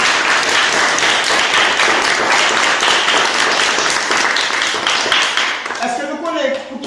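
A small crowd claps steadily for the organisers at an outdoor school-supplies distribution, dense applause lasting several seconds before fading, with voices mixed in.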